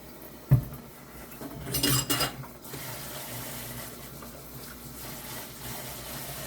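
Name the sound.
washing a cutting board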